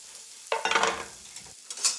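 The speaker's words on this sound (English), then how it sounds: "A pan full of hot bacon fat and 4 salmon fillets looking for some hot fat to sear in." Food sizzling and being stirred in a pan of hot bacon fat, with a short burst of crackling and scraping that fades, followed by a quieter hiss and a faint click, close up with no talk.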